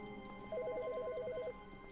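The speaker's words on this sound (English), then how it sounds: "So, the phone's ringing." A telephone ringing in the video game The Stanley Parable, a single rapid warbling electronic trill lasting about a second over a faint hum.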